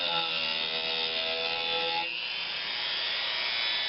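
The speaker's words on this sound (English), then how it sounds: "because the Dremel is a rotary tool and it tries to roll to one side" A Dremel rotary tool rounds over the edge of a maple woodturning, a spiral pierced tea light or vase, with a steady high motor whine and a continuous abrasive rasp that roughens partway through. No one talks.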